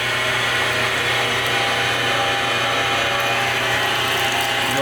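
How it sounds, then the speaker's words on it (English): An electric meat grinder runs continuously while pepperoni meat is fed through, a steady loud mechanical whir and rattle with no pauses. "You also want to be careful you don't put your fingers too far into the grinder."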